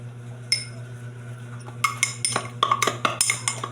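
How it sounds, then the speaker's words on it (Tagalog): A spoon stirs kapeng barako coffee in a cup. After a quiet start with one early clink, it gives a quick run of bright, rhythmic clinks and scrapes, close and fairly loud. "Tapos haluin na natin siya. Kailangan kasi guys magka-bubbles siya."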